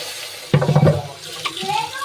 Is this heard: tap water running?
yes